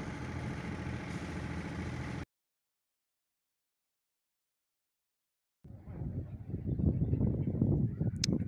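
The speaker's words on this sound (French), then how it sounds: "Alors c'est moteur pour le petit dernier mille" The motor of a sailboat runs at a steady idle-like drone near the port of Muros. A gap of silence is followed by a rougher, louder stretch of engine rumble.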